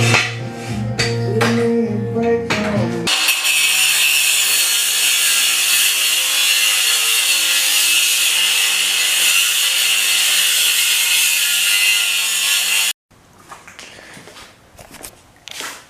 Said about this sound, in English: after beating the heck out of my poor battery powered Milwaukee angle grinder, I made it through